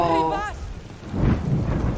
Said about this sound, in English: Great, and now it's like raining or whatever. Big storm.